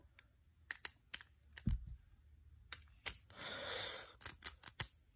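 A plastic A gear is pressed onto a Zest Achilles Beyblade top, producing a series of sharp, close, quiet clicks and snaps in irregular bursts, with a brief rustle in between.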